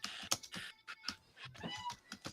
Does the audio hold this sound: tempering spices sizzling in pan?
no